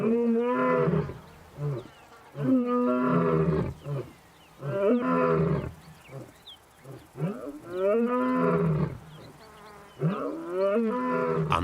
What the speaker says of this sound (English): the Pride males roar to proclaim their ownership of the territory.